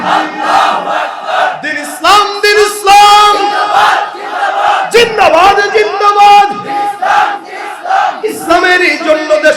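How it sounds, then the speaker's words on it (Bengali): A crowd of many voices chants the Islamic slogan Allahu Akbar together at a religious gathering, loud and sustained in a rhythmic, unified cadence with strong harmonic shouting throughout. "সবাই মিলে একই তালে দাও না স্লোগান নারায় তাকবীর আল্লাহু আকবার"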